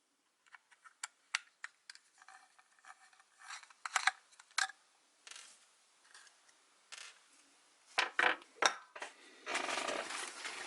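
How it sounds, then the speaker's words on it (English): Small star key screws being worked out of the bottom plate of a Trampa Wand pistol-grip remote, giving sparse, close, faint clicks and scrapes with short ticking bursts and a brief rubbing rasp at the end. "we're going to start with taking 5 star keys or star key screws out from the bottom plate"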